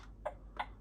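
Two soft, evenly spaced clicks from a newly replaced turn-signal speaker in an Opel Zafira B, a steady tick-tock rhythm, close by and quiet with no voices.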